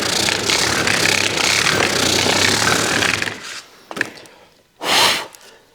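A 50-year-old pad sander found in the trash runs with a loud, steady buzzing whirr for about three seconds, then cuts off, followed by a few faint knocks and a brief hissing burst.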